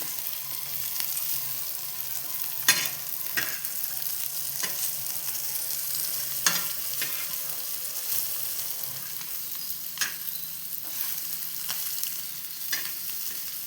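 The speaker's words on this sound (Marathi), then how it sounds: "आता इथे आपण मच्छी फ्राय होऊन देऊया" Fish fries in a pan at a steady, close sizzle. Sharp clicks and scrapes of a utensil turning the pieces break through every second or two, and no voices are heard.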